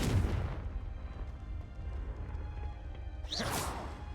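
The Confringo fire spell in Hogwarts Legacy bursts with a whooshing blast at the start, a low rumbling tail follows, then a second fiery whoosh flares near the end, all fairly quiet.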